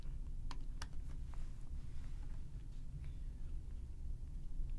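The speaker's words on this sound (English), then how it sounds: "we can simply type in S3 at the top in the search bar" Typing on a computer keyboard into a search bar, a few faint key clicks over a steady low hum.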